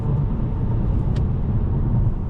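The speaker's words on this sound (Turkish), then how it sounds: "Arkadaşlar 2000 devrin biraz üstünde 115 km hızla gidiyor." A 170 hp Opel Insignia 1.6 Turbo sedan cruises at 115 km/h in sixth gear, just over 2000 rpm, giving a constant low road-and-engine rumble heard from inside the car.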